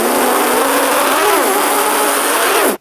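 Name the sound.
voice imitating two race cars racing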